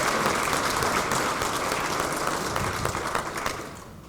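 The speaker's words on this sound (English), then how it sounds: "give another big round of applause to Maury" An audience at a technology conference gives a sustained round of applause, a dense clatter of many hands that holds steady and then slowly thins out toward the end.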